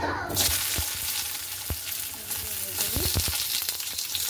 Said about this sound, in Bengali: গাজরটা আর বিনসটা ভাজা করব একটু হালকা করে